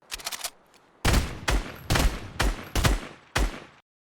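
Blue Famas and blue Scar assault rifles fire in a video game: six sharp, loud bursts spaced about half a second apart, following a quicker stutter of lighter shots at the start, then silence.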